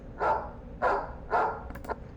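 Three sharp dog barks from an editing-software sound effect, evenly spaced and fairly close, followed by a couple of faint yips; no talking.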